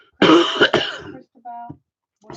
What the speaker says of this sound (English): So this cough, I've had this cough for about 3 months